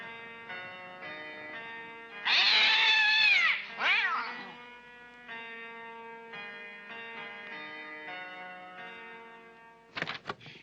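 Cats in a 1982 black-and-white animated short meow and caterwaul, a loud drawn-out yowl followed by a shorter cry, over a steady musical drone, with a sharp burst of noise near the end.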